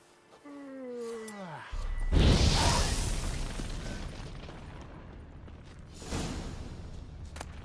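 Geralt casts the Igni fire sign in The Witcher 3: a descending magical whine gives way to a heavy whooshing burst of flame that rumbles and fades, then a second fiery surge near the end, loud and close.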